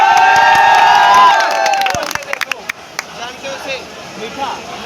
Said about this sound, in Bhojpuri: तो सारे मिलके बजाओ ताली